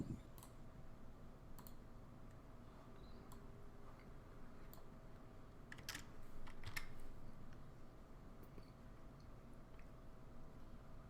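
Steady clicking and typing on a computer keyboard, close and continuous, with a few sharper clicks standing out over a low background hum.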